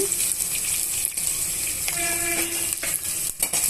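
Onion and green chilli pieces fry in a pan with turmeric, giving a steady close sizzle with faint stirring scrapes and no talking.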